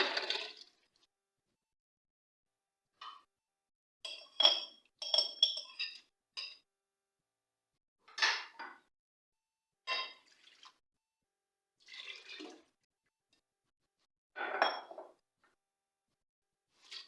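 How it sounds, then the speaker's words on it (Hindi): Short rattling bursts of dry moong and masoor lentils poured into a metal pressure cooker, repeated in separate pours with pauses between, close and clear with no talking. "अब मैं इन दाल को कुकर में डालती हूँ।"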